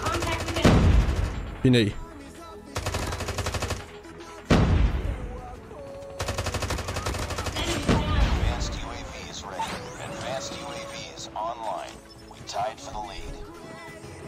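Holger 26 fire in a Call of Duty match: several loud, rapid automatic bursts, then sharper scattered shots and game effects, with a player's voice briefly speaking.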